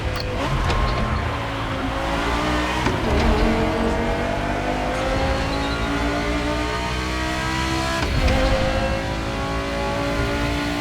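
Racing game car engine from the Pro Racing mod revving steadily up through the gears, pitch climbing repeatedly with shift breaks around three and eight seconds, loud and continuous with no talking.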